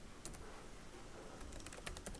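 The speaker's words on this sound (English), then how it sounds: "I'm just typing my name" Light, quick keystrokes on a computer keyboard, a short burst of taps near the start and a busier run toward the end, faint and close, with no talking.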